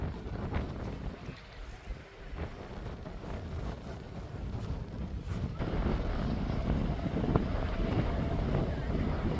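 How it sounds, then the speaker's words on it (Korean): Strong, steady coastal wind buffets the microphone on the Udo island shore near the sea, a continuous roar that builds and stays loud throughout. "바람이 워낙 강해서 저도 날아오를 것 같습니다"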